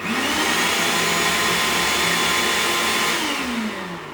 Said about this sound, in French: Le mixeur au bout de sa vie.